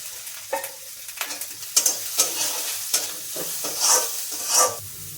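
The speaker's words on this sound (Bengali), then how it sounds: "পেঁয়াজটা একটু লাল করে ভেজে নেবো" Onions frying in a pan with salt added, stirred now and then, giving scraping stirs and soft sizzling bursts that swell and fade over a few seconds, close and moderately loud with no talking.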